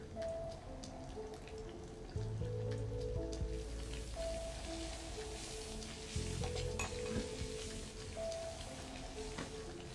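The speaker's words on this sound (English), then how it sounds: "You're burning the garlic." Garlic sizzling and crackling steadily in a hot pan in a Mass Effect Legendary Edition kitchen scene, a dense continuous fry with occasional louder spits and faint tonal background sounds.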